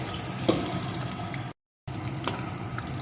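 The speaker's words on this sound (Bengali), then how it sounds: "এখন আলু পটলটা একটু ভেজে নেব" Potatoes and pointed gourd frying in a pan make a soft, steady hiss with one small pop near the start, cut by a brief moment of total silence midway.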